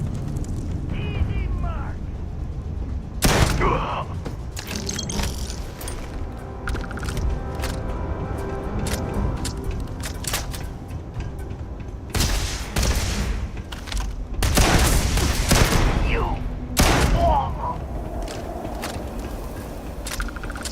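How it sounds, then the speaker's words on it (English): Shotgun blasts in the video game Starfield, four loud, booming shots spaced several seconds apart over mechanical clanks and creaks, with someone talking between them. "Shotguns are great in this game."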